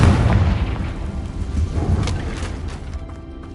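A Confringo fire-spell explosion from the video game Hogwarts Legacy: a loud, deep boom with a heavy rumble that slowly decays over a few seconds.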